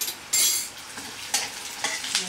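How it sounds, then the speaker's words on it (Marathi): Urad dal and chana dal fry in hot oil, giving a bright sizzle with repeated scraping stirs against the pan, close and without talk. "आता आपण डाळी पहिले तळून घेऊयात। उडदाची डाळ, हरभऱ्याची डाळ"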